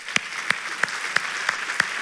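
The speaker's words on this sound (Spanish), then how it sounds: "los que están de pie merecen un fuerte aplauso" A church congregation clapping, heard as six evenly spaced, sharp claps at a steady rhythm over a soft background wash, like a slow, unison clap.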